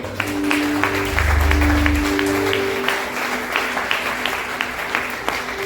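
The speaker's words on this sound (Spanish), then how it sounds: "Denle un aplauso al Señor." A congregation at a Spanish-language church service claps in sustained applause, dense, close and continuous, over low organ-like tones.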